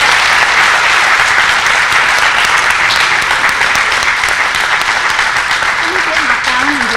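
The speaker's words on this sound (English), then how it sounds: "Would you give them one more round of applause" An audience at a community college honor society ceremony gives a sustained round of clapping for the all-state academic team, loud and steady throughout, with a faint voice near the end.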